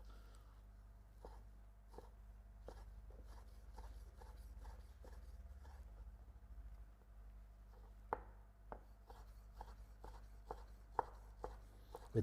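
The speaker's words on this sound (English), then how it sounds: "I'm gonna cut a bit more of that beef." A very good knife slices through tender beef tenderloin on a board, giving a run of soft, quiet cutting taps and scrapes. Some land closer together and sharper toward the end, over a low steady background hum.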